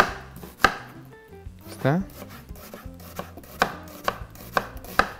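A knife chops a red onion into julienne strips on a board, giving sharp, distinct cuts at an uneven pace, close and clear, with a brief spoken word.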